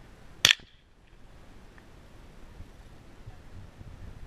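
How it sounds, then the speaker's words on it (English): A single sharp gunshot fired at a skunk outdoors, loud and abrupt near the start, then quiet wind and background hiss with no talk. "Nice shot. Good shot. That was a dead skunk right there."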